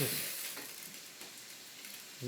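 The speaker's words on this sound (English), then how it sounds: "And I'm going to turn the shower head on" A shower head clogged with lime deposits sprays water in an uneven pattern, giving a steady, close, broadband hiss that holds without pause.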